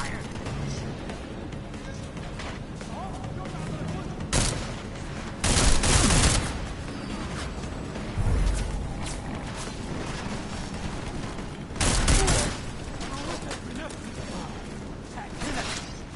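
In Deus Ex: Mankind Divided, video game gunfire lays down cover fire over a constant bed of game noise, with several loud, short bursts of shots spread apart through the scene.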